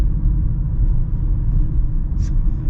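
Cabin road noise inside a 2023 compact SUV crossing bumps in normal driving mode, a constant deep rumble and low engine drone, loud and steady, with a faint brief click near the end.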